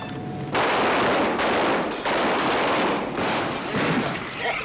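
Western film gunfight in the rain: bursts of rapid gunfire crackle loud and close in several back-to-back volleys after a brief quiet start, with no talk over them.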